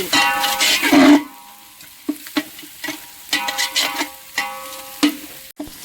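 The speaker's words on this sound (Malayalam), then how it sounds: "പൈനാപ്പിളും ക്യാരറ്റും ബീൻസും ഒക്കെ നന്നായി വഴണ്ട് വന്നിട്ടുണ്ട്" Pineapple, carrot and beans sautéing in a pan for biryani, a loud burst of sizzling and stirring followed by a series of short scraping stirs with quieter frying between them, no talk.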